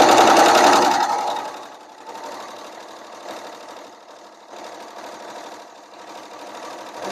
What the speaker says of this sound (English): use the edge of my serger right here to keep it aligned with that